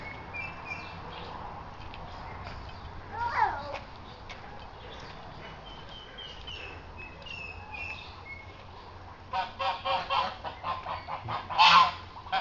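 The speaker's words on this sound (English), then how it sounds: "Our goose flock." A farm flock of geese calls out, starting with scattered faint honks and rising near the end into a cluster of louder, overlapping honks, with other birds chirping faintly in the background.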